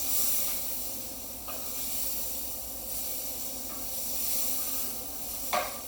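Pork for a pork wellington searing in a frying pan gives a steady, even hiss and sizzle throughout, with a couple of brief sharper crackles.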